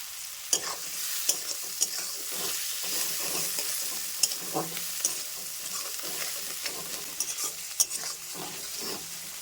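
Food frying in a pan while being stirred, with a steady hiss of sizzling oil and frequent scraping clicks of a utensil against the pan, close and continuous, in a home kitchen where egg curry with potato is cooked.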